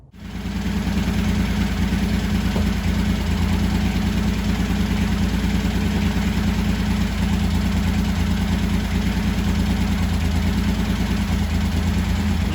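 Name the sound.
1985 Honda VT1100 Shadow motorcycle engine running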